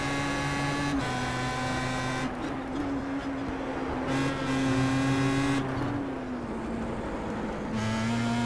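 A Star Mazda race car engine at Suzuka in the iRacing sim drones with a steady high whine, shifting pitch as the car brakes and accelerates through corners, loud and continuous.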